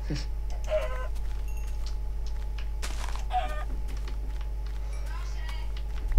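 Chickens cluck intermittently in the Minecraft video game, short clucks scattered over a steady low hum with in-game effects around them.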